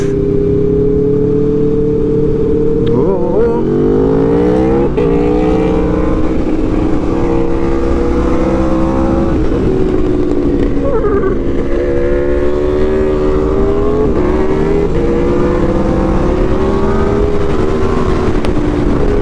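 A 2024 Aprilia RSV4 Factory motorcycle ridden in damp conditions, its engine droning steadily up close with repeated rising and falling revs through gear changes and no talk.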